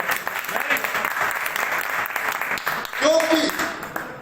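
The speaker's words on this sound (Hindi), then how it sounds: "कप्तान साहब के लिए जोरदार तालियां" Loud, dense applause from an audience honoring a captain at a public gathering, many hands clapping continuously, with a voice rising over the clapping near the end.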